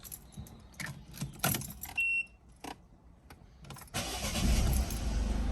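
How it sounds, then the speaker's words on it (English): Keys jangle and clunk in the ignition of a Citroen DS3 as it is switched off, followed by a brief electronic chime and a rising wash of cabin noise, close and fairly loud. "Turn the ignition off."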